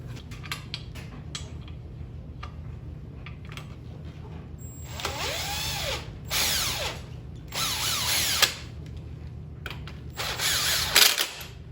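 A handheld impact driver spins screws into a Yamaha Raptor 700 ATV subframe in several short whirring bursts with rising and falling pitch, separated by pauses and a low background hum.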